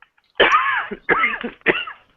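Three harsh coughs in quick succession, close and fairly loud, with short pauses between them and no talking.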